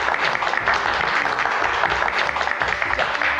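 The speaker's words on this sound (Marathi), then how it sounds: "चला एकदा जोरदार टाळ्या जाऊया" A crowd claps together at a gathering, dense continuous applause at close range filling the whole moment without pause.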